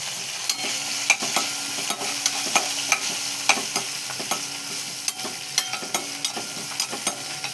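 A spoon scrapes and taps in a pan at a steady rhythm over a continuous frying sizzle of spices with curry leaves and green chilli, close up, with no talking.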